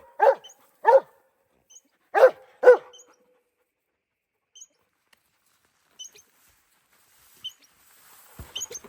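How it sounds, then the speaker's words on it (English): A West Siberian Laika hunting dog barking at a squirrel in New Mexico's Gila Wilderness: four sharp barks in two pairs, then quiet with faint scattered sounds. "He's an excellent squirrel dog now."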